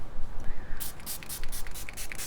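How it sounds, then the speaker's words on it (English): Revolution Conceal and Define Infinite Mattifying Setting Spray is pumped onto a face, a close series of about six short hissing bursts in quick rhythm after a brief quiet lead-in. "So we have the Revolution Conceal and Define Infinite Mattifying Setting Spray."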